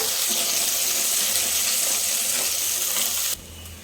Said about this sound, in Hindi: पियाज को आमे अल्प समय भाजी दबा